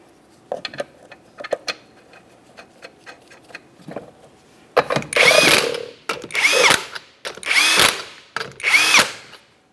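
A power tool spins 19mm lug nuts onto a 1994-1997 Honda Accord wheel in a garage, with light ratcheting clicks at first, then four loud whirring bursts close up, one per nut.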